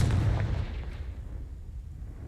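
Confringo fire blast spell cast in the video game Hogwarts Legacy, a loud booming explosive burst that fades into a rumbling tail.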